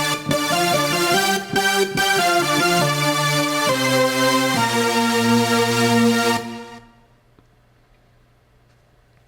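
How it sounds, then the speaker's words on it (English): A big, bright Gigantic Wake Lead synth lead with slight resonance, playing a melodic dance-style line loud and up front before stopping and leaving near silence. "we've got a big kind of synth part that's really a lead."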